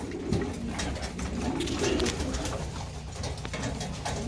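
Racing pigeons coo steadily in a loft, several low throaty calls overlapping, with a constant background hum.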